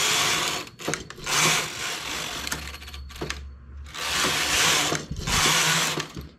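A knitting machine makes rows in repeated passes, with rattling, whirring carriage sweeps of a second or two separated by brief pauses and mechanical clicks.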